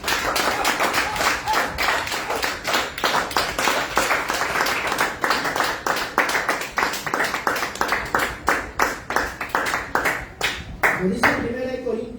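A church congregation claps along steadily in a loud, fast, rhythmic unison beat that holds for about twelve seconds, with a voice speaking briefly at the end.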